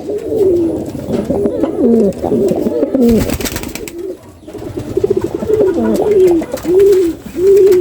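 Beauty Homa pigeons coo repeatedly and close up, a run of low, rolling, throaty calls with short pauses, against light background noise.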